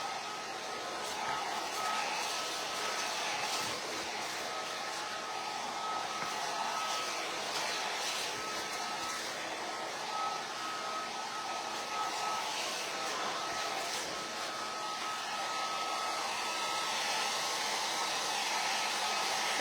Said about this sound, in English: I'm just gonna dry it a little bit from the inside so I make sure it doesn't go through to the back.